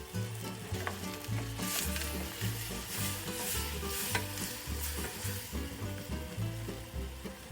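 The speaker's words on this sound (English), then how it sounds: "these onions are cooked now. Starting to caramelize a little bit on the bottom" Onions fry and caramelize in a pan with a steady, close sizzle and crackle throughout. Rhythmic background music plays underneath, with no talking.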